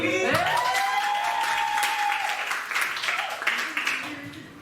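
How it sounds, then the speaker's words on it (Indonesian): An audience at a church youth gathering breaks into sustained applause that starts full and gradually thins out, with a voice speaking briefly over the clapping toward the end. "Lagi, yuk, ya tepuk tangan."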